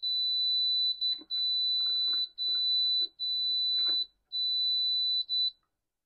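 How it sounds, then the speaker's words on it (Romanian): Instant Pot Pro pressure cooker emits a steady high-pitched electronic beep as its dial is turned, in long unbroken tones separated by brief gaps, while a person talks quietly in between. "atunci când învârt rotița este un sunet continuu, un bipăit continuu care poate fi un pic supărător"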